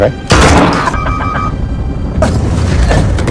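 Several loud gunshots boom close by, a heavy blast followed by reverberating cracks and a second burst, with dramatic background sound.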